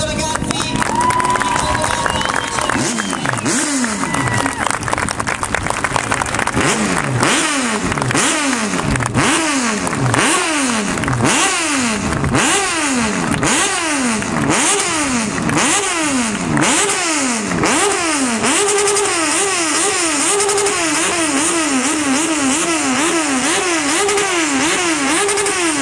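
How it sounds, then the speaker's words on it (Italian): Motorcycle engines start and rev repeatedly at a roundabout inauguration, a series of rising and falling throttle blips from several bikes close by, overlapping into a continuous roar, with voices faintly beneath. "quando si spegne la moto di Paolo potete partire con i vostri motori"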